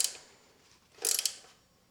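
A 15mm ratcheting wrench tightens a bolt on an electric bike. A quick burst of close ratchet clicks is heard, then a second, louder run of rapid clicking a moment later, with no talking.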